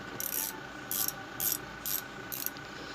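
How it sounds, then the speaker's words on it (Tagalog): A ratchet wrench on a Toyota Lite Ace brake and clutch master cylinder repair gives five quick, close, crisp clicking bursts at an even pace, each lasting about a quarter second, with no talking. "ito pong may ratchet."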